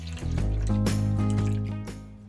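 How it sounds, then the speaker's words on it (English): Milk pours into a bowl of cracked eggs for a French cherry clafoutis batter, a steady liquid fill running through the clip beneath sustained background music. "Pour in 1 cup of milk."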